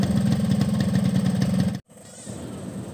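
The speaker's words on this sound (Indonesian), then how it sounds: "Ini lumayan berisik, tapi mungkin karena mesin masih dingin jadi olinya belum rata." A cold two-stroke motorcycle engine running Orange Tropical 2T oil idles with a steady, fairly loud buzzing putter, cuts out abruptly for a moment, then continues more quietly.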